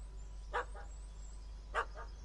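A dog in The Witcher 3 barking at a cat up a tree: two pairs of short, sharp barks about a second apart, fairly close, over a steady low hum.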